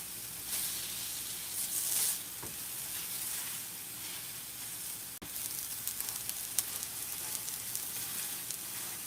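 Six chicken tenders sizzling on a flat griddle grill, a steady close crackling hiss with small pops and one sharp clack midway, no voices.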